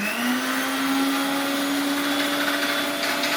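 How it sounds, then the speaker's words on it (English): An electric grinder in a home kitchen whirs loudly and steadily while reducing spices to a fine powder, its pitch rising slightly at the start and then holding even. "So let's grind this into a fine powder now."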